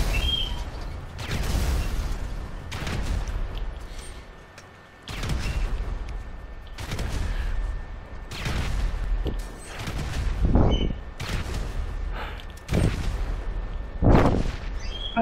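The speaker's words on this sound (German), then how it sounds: "ich höre es nur die ganze Zeit explodieren" Repeated heavy booms and blasts from explosions in GTA V Online, loud and irregular, each followed by a rumbling decay over about fifteen seconds.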